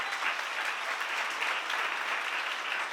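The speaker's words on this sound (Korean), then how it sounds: "박수." A church congregation applauds during a sermon, a steady dense burst of clapping from many hands filling the room for a few seconds.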